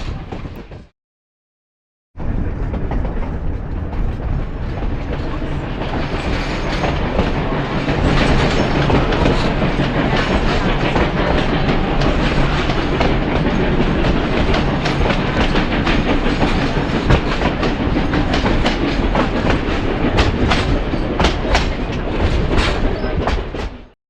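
The Durango/Silverton train rolls along the tracks in a steady, loud rumble with rhythmic clickety-clack of wheels, heard from on board, after a brief silent gap at the start.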